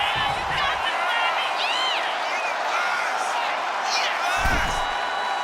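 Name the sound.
crowd reacting in a wrestling video game, WWE 2K25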